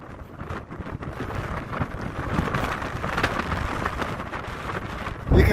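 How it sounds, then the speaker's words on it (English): Wind blowing hard across a mountain ridge at about 9,000 feet in Nevada: a loud, gusty roar buffeting the microphone throughout, rising in strength toward the end, with no talk. "as you can tell, it's pretty windy."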